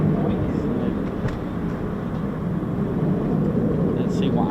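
A US Air Force F-16 from Aviano's 555th 'Triple Nickel' fighter squadron roars past near RAF Lakenheath, a continuous heavy engine rush heard under people talking.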